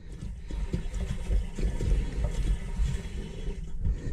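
Steady rushing water fills a toilet tank nearby, a continuous hissing flow that holds at an even level throughout.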